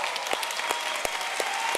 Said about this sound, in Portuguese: desse uma salva de palmas para esse casal